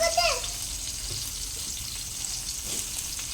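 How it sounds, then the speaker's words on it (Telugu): Green chillies and bottle gourd pieces fry in a pan with a constant soft hiss and sizzle, with no clear talk over it. "పచ్చిమిర్చి కాస్త సోరకాయ ముక్కలు వేసుకోవాలి"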